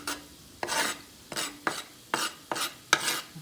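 Minced garlic stirred into a pan of mushrooms, six quick scraping strokes repeating about every half second at close range, with no one talking.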